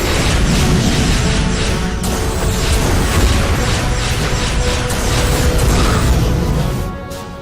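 Starship weapons fire on a starbase in a loud, dense roar of blasts and mechanical rumbling that holds steady, then drops slightly near the end.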